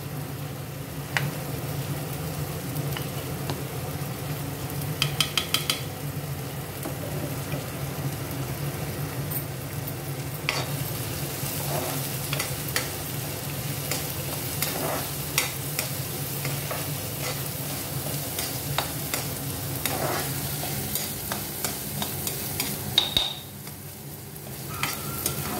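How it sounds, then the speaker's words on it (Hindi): Tadka tempering with onions for chana saag sizzles and fries steadily in a pan, with stirring scrapes and clicks recurring throughout, close up and continuous with no talk. "तो तड़का मैं इधर लगा ही रही हूँ।"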